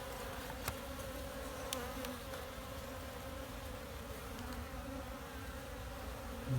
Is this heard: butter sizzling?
no